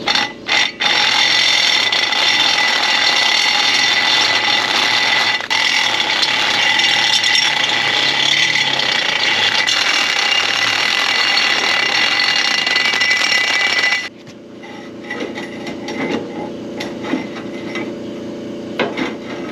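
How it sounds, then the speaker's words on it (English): Loud, harsh whirring and grinding of a power drill biting into metal for most of the stretch, then stopping abruptly, leaving quieter rattling and handling noises. "Drill them out now."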